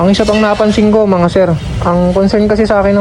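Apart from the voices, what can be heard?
No everyday noises stand out.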